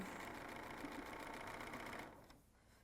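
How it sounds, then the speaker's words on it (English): A BERNINA sewing machine stitches down quilt binding using a flat felled foot, a steady fast mechanical whir running evenly, close and quiet, before stopping abruptly near the end. "I am going to sew right down that binding."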